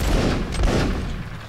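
Massed musket volley in the Mount and Musket game, a dense, rolling crackle of many shots fired together at close to middle distance, short and loud with no talk over it.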